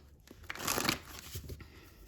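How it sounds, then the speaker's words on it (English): Tarot cards being shuffled by hand, a brief, soft riffling burst that swells and fades over about two seconds, quiet and close. "I'll shuffle these first."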